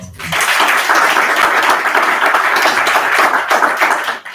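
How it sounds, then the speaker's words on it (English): An audience at a Congolese community inauguration event gives a round of applause for a guest, loud, dense clapping sustained evenly for several seconds before cutting off. "Can you give a round of applause?"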